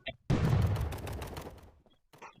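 A bomb goes off in a shooting video game with one loud, sudden blast that rumbles and decays over about a second, followed by faint crackles and a brief snatch of voice.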